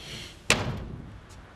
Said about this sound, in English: And close the door behind you.